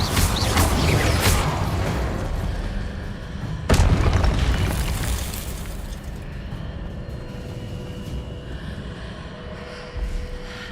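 Fiery blasts from the Incendio spell in the video game Hogwarts Legacy boom loudly amid busy combat noise, with a sharp explosion near the middle, a long fading rumble, and a smaller burst at the end.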